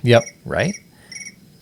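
A phone ringtone that mimics a chirping cricket gives a few bright, pulsing trills at moderate volume, interleaved with short bursts of conversational speech.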